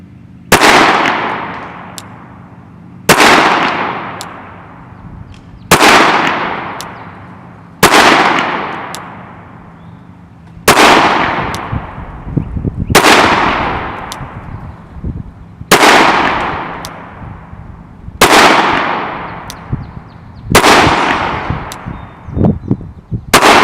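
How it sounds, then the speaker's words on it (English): Glock pistol fired at a range, ten sharp loud shots spaced roughly two to three seconds apart, each with a decaying echo tail, no talking. "So I got 10 rounds of my Glock here"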